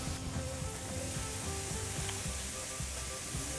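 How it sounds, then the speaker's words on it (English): A crab and beef burger ball hits a hot Blackstone griddle and sizzles steadily, a dense close frying hiss with low clanks and scraping pulses underneath, no voices. "And then she'll hand it off to me, and I'm going to stick it on the griddle."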